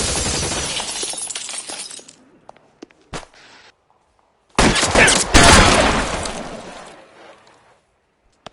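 Gunfire in LA Noire: loud, close volleys of rapid shots with shattering glass, a first burst for about two seconds, scattered single cracks, then a second heavy burst fading out after several seconds.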